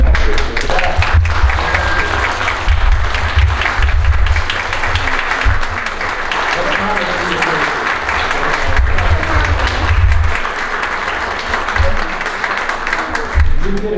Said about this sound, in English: how about a nice round of applause for our student actors in the back